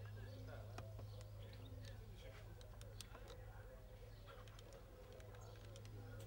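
Pigeons coo softly through steady low background noise at a loft in Palios Prodromos, Imathia, with faint chirps and clicks scattered over the rumble.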